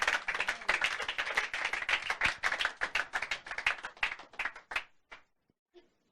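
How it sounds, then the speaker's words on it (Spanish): A church congregation claps together in a quick, loud burst of many hands for about five seconds, then it tapers off into a few scattered final claps and near silence. "Dale aplauso al Señor."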